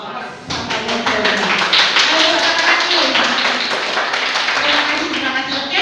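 An audience claps at a presentation gathering, a brisk burst of close, fairly loud applause with voices murmuring underneath.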